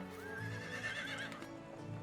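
A horse in the medieval life-sim game Medieval Dynasty whinnies with a rising, wavering neigh lasting about a second, close and clear over a steady low in-game ambience with a soft hoof clop near the end.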